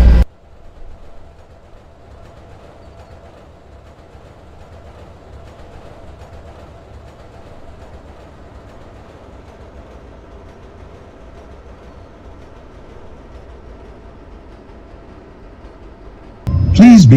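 Low steady rumble of a subway train running on a Chicago CTA Green Line in a Roblox game, continuous and even for most of the stretch, with brief louder noise at the start and end.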